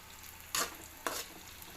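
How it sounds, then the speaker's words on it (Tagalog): Mushrooms for a creamy chicken mushroom dish dropped into a pan of hot oil, two sharp bursts of sizzle rising over a quiet background fry, the second shorter than the first. "At ayan na nga, inilagay ko ang mushroom."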